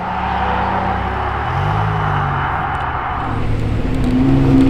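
A dark gray Lamborghini Huracan Tecnica with orange calipers driving on the road, a loud, close, sustained engine drone that shifts pitch as it accelerates past, filling the whole stretch with a steady roar.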